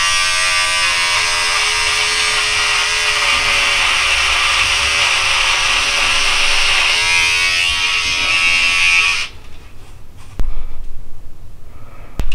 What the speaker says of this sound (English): my side trimmer here